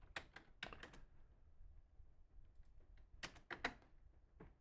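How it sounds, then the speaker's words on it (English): Quick bursts of keystrokes clack on a computer keyboard, close and fairly quiet, with a pause in the middle before another short flurry of typing. "I'm going to type in some more Unplugged."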